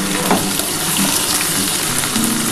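Fried potatoes tip into a hot pan of spiced oil for cauliflower-potato curry, setting off a loud, dense, continuous sizzle heard up close, with no voices over it.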